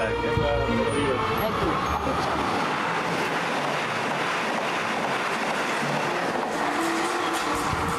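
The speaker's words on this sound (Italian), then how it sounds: "Fra poco sentirete anche passare il treno che è a 2 centimetri" A train rumbles past just beside a house, a broad steady roar filling the whole clip close by, with a voice speaking over it.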